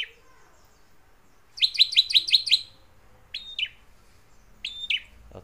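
A drongo (srigunting) calls alone and close: a quick burst of six rapid bright chirps, then two further separate whistled notes after short pauses, against a quiet background.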